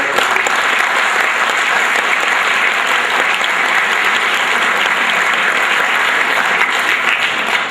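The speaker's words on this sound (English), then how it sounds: "that young man deserves a round of applause for that" Loud, dense applause from the crowd at a fall high school sports awards night, continuous and even for several seconds with no speech over it.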